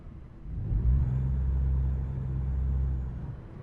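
Engine of a Scot A2HD truck in American Truck Simulator, a low steady droning rumble that swells and holds for a few seconds, fairly quiet and heard alone.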